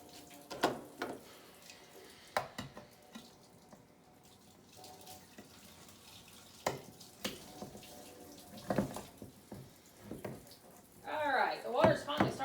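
Water runs from a tap into a kitchen sink as food is rinsed and drained, with uneven splashes and bursts of flow and a louder gush near the end, while people talk nearby.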